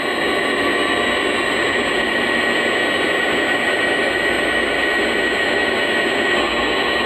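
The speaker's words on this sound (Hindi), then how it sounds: "ये आप आवाज़ सुन रहे होंगे, ये पंखे की आवाज़ है।" The cooling fan of an INVT inverter runs at full speed, giving a loud, steady broadband whoosh with a constant tonal whine, unbroken throughout and with no speech.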